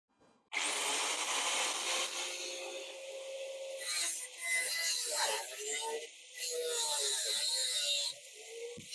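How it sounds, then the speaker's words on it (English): A cutting disc grinds through a bolt on a Foden truck with a Cummins engine, a loud continuous harsh rasping whine that starts abruptly and holds steady, with slight wavering near the end before it cuts off. "It's destroyed the bloody disc, but it's cut the bolt through."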